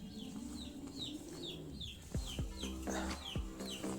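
Chickens cluck and chirp repeatedly while being fed cooked chayote mixed with oats, several birds calling close by in quick overlapping notes, with a few sharp knocks and no talk.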